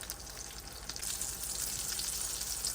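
Breaded pork chops frying in a pan, a steady broadband sizzle that holds throughout and grows slightly louder and brighter partway through, with no talking.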